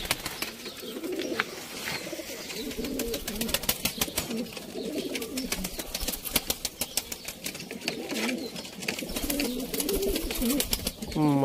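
A pigeon held in a hand gives low coos while rapid wing flaps and fluttering clatter in bursts, with background noise throughout.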